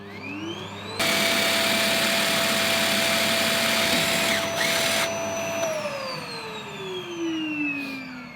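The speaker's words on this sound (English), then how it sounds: "I'm gonna have this vacuum cleaner running whilst I drill in." Vacuum cleaner switches on with a loud steady whine while a drill bores into a diesel tank in a van conversion; a tonal motor hum holds, then winds down with falling pitch.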